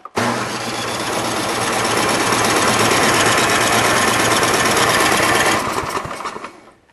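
A snowblower engine cranks and roars loud and close, holding a rough, continuous drone for about six seconds before cutting off and fading.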